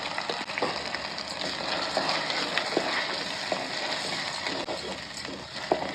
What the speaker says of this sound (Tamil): இந்த டைம் அரைச்சி வச்ச வெங்காயத்தை போட்டுக்கிறேன்.